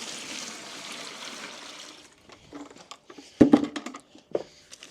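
Just over six litres of water poured into a bucket for mixing plaster, a steady rushing pour that stops after two seconds, followed by scattered drips, knocks and bucket handling sounds nearby.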